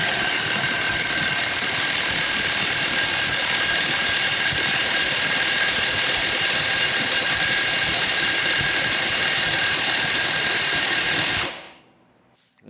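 An 18V cordless impact wrench set to maximum torque hammers on a bolt in one continuous, loud, buzzing burst for about eleven seconds, then cuts off abruptly into near silence.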